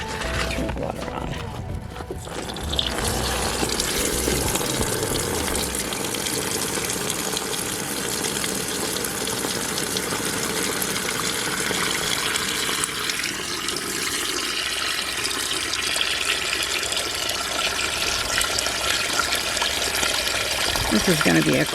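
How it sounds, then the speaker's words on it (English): Tap water runs steadily into a bucket on a Montana farm workshop, a continuous broadband splashing rush that fills the clip after a brief start, loud and close with no one talking. "Turn the water on."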